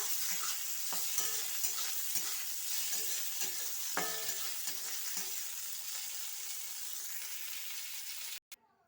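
Fried okra is stirred together with fried neem leaves in a pan, giving a close, steady sizzle broken by repeated scraping and clattering strokes of the spatula, then an abrupt stop near the end.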